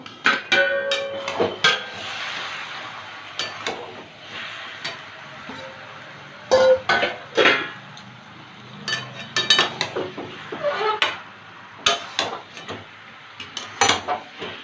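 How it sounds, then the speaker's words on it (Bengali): Metal pot lid lifted and a spoon stirring Hilsa fish heads with Malabar spinach in a cooking pot: scattered clinks and scrapes in irregular bursts, close and fairly clear, no talking. "পাঁচ মিনিট পরে ঢাকনা তুলে একটু নেড়ে দেব"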